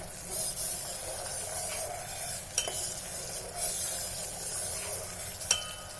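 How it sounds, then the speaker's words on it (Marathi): A steady hissing, bubbling simmer of sugar syrup in a pan, fairly quiet and continuous, with a couple of faint clicks of a utensil. "आता आपला साखर विरघळली आहे आणि हे असे बुडबुडे यायला लागलेले आहेत"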